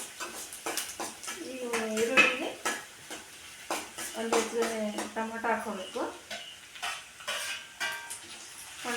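Onions fry and are stirred in oil in a pan, a steady close sizzle punctuated by spoon scrapes and clinks while a person talks over it.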